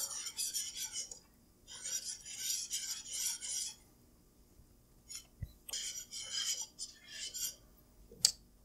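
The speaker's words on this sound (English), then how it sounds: "We're just going to stir this up while the butter melts" A roux of flour and butter is stirred in a pan while the butter melts, giving close, rhythmic scraping and rasping strokes in bursts with short pauses and one sharp knock near the end.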